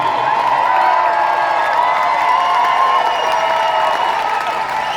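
A dense crowd cheering and clapping at an Olympic heroes parade in Manchester, a steady continuous roar with whoops rising over it, loud and unbroken throughout.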